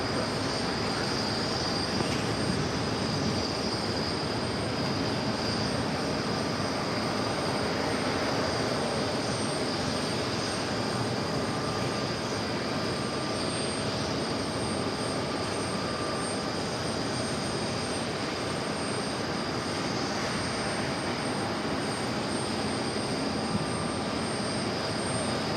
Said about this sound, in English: China Southern Cargo 777 freighter. Next arrival on runway 4 right.